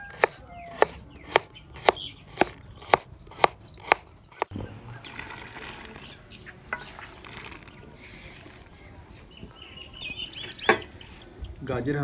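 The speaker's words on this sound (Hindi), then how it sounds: "गाजर की बारीक कटाई करेंगे।" Knife finely chopping carrots on a board for chicken vegetable soup: about eight sharp, evenly spaced close chops, followed by softer rustling and handling noises.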